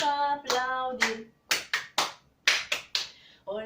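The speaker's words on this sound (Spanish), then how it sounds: "Vamos a aplaudir." Hands clapping in a children's greeting song, first a brief sung note, then a run of sharp claps in an uneven rhythm, two of them close together, sounding near and alone.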